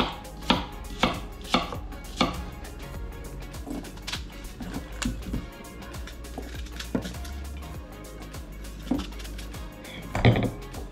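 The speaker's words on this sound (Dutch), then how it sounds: "kun je hele kleine stukjes zo snijden" A knife taps against a cutting board in a string of soft chops, uneven in pace, with occasional clatter nearby.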